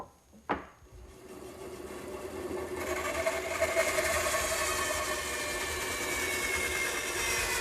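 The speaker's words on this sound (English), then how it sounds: "I'll make the notch using the radial arm for the crosscut, the bandsaw for the rip." A bandsaw rips a notch into wooden studs for a greenhouse frame. A single knock comes first, then the saw's steady, loud whir and cutting noise builds and holds to the end, with no talking.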